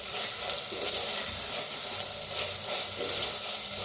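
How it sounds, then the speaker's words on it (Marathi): Chopped tomatoes frying in a pan for a bitter gourd dish, giving a dense, continuous hiss and sizzle that stays close and steady throughout, with no voices. "आता ह्याच्यात टाकूया टमाटर कापून घेतलेलं. छान भाजून घेऊया."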